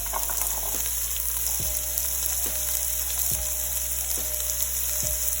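Welsh onions crisping in a hot pan give a steady, loud sizzle, broken by a few soft knocks or stirs every second or so, with no talking.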